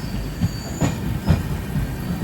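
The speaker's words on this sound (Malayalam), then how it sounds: "8:02 ട്രെയിൻ ഇപ്പോൾ ലോണാവല സ്റ്റേഷനിലേക്ക് ഇതാ എത്തുകയാണ്" Heard from inside the Deccan Queen Express Vistadome as it pulls into Lonavala station on a heavy rain day, the carriage gives a steady loud rumble with rhythmic wheel clacks and a thin squeal of wheels.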